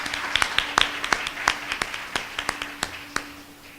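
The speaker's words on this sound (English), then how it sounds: "Please come on up, give her a round of applause." Applause for council member Priscilla Tyson at a 2016 MLK Junior and Senior Division event: sparse, uneven hand claps from a small crowd, sounding close and lasting a few seconds.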